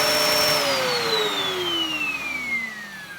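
An Arctic Blue Dyson DC01 vacuum cleaner runs close by with a loud whirring whine whose pitch slowly falls as it winds down.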